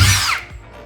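A power drill bores a hole through an interior door during a doorknob install, a loud, close whine lasting under a second before cutting off.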